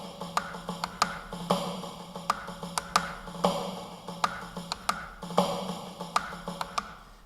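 Snare drum played in single-stroke eighth-note rolls with rim shots: a steady run of sharp, close hits with regularly accented cracks, repeating evenly and alone with no voices.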